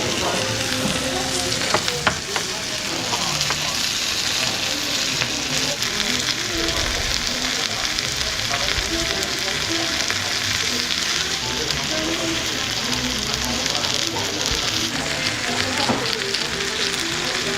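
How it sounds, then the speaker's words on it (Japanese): Mixed vegetables stir-fry loudly in a busy kitchen, a dense constant sizzle with scraping and tossing sounds throughout, faint background voices now and then. "いろんなお野菜の炒め物です。"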